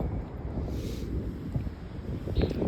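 Cold wind gusting outdoors at the oceanfront, a steady broadband roar buffeting the microphone throughout with no pauses, loud and close, with no voices over it.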